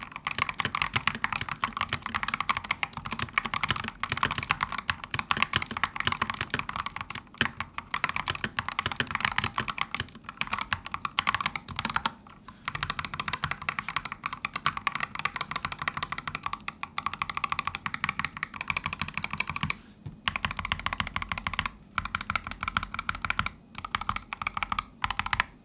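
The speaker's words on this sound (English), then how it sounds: "it's a fairly loud keyboard" A Razer Huntsman V3 Pro analog optical keyboard is typed on rapidly and loudly, producing a continuous clatter of key presses with brief pauses between bursts, close up.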